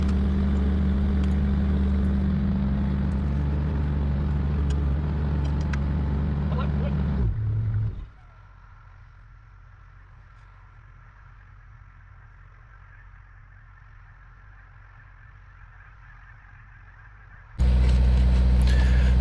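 A mini excavator engine runs on a construction site where concrete piles go in for a garage foundation. It gives a loud, close diesel rumble, drops to a quieter idle for about ten seconds, then roars back up.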